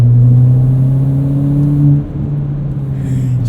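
A 2017 Ford Fiesta ST hot hatch, autocross modified, pulls hard with a loud, close, steady engine drone that eases off around the two-second mark and then carries on at a lower pitch.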